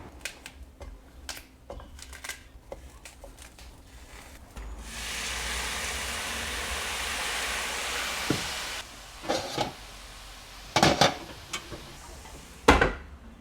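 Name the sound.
water sauteing vegetables in hot pan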